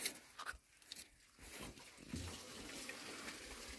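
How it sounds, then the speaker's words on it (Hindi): Old coolant water gushes and splatters steadily out of an opened excavator radiator, a continuous rushing flow that swells after a brief quieter moment. "पुराना पानी सब बाहर निकलने लग गया।"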